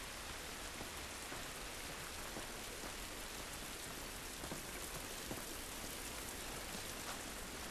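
Steady heavy rain in the game The Last of Us Part I, a dense continuous hiss of drops pattering on surfaces with scattered sharper splats, uniform throughout and with no voices.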